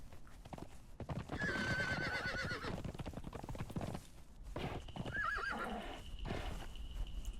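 A horse in the video game Conan Exiles gives two clear neighs over steady, rhythmic clip-clop of hooves, close and fairly quiet.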